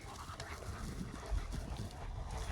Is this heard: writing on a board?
no